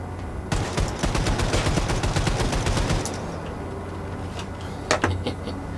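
Automatic gunfire rattles in the video game Wolfenstein II: The New Colossus, a loud rapid burst for about three seconds, followed by quieter ambient game noise and a couple of distant thuds.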